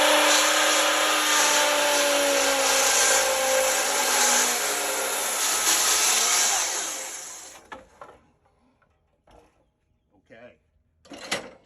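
A sawmill blade cuts a timber-frame tenon into a log, a loud steady whine for about seven seconds before the cut ends, followed by a few scattered knocks and clatters.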